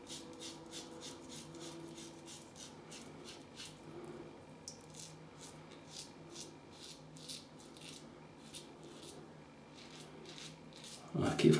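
An Edwin Jagger DE89 double-edge safety razor scrapes stubble in a long run of short, quiet rasping strokes, evenly spaced and close, with a louder handling knock at the end.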